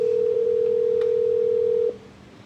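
A steady telephone dial tone sounds loud and unbroken as a call-in connects, then cuts off sharply near the end, leaving quiet line noise.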